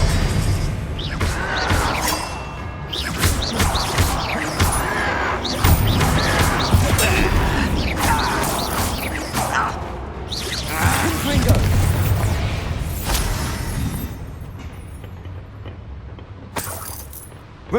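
Confringo and Bombarda spell blasts in the video game Hogwarts Legacy: a dense, loud run of booming explosions and crashing impacts with whooshing bursts, layered over continuous battle noise for the whole stretch.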